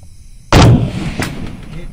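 A single loud gunshot fires about halfway through, a sharp blast followed by a long booming decay, outdoors at night during a night-vision test.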